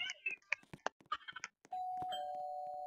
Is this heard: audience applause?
no